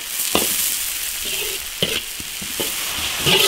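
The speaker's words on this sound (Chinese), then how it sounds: "烧油炒调料，大蒜、生姜丝、花椒、干辣椒炒香， 下点青椒" Green peppers stir-fry in a hot wok with garlic, shredded ginger, Sichuan peppercorns and dried chilies, giving a loud, steady sizzle broken by scraping strokes of the spatula every second or so.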